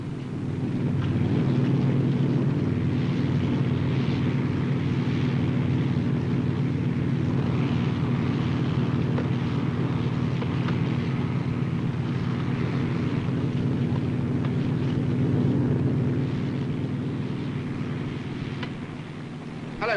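An arriving helicopter gives a sustained, loud, steady rotor-and-engine roar, dense and unbroken for the whole stretch, with a slight rise early on and easing toward the end; nobody speaks.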